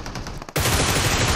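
Dense, continuous automatic gunfire from a battle royale style shooter game bursts in loudly after a brief lull, a sustained fusillade of rapid shots filling the rest of the moment.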